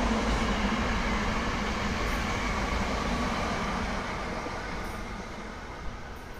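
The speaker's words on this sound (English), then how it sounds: "Here we go, a Acela Express train." An Amtrak Acela Express train passes Croydon Station under overhead wires, a steady loud rushing roar of rail noise that holds throughout and eases slightly toward the end.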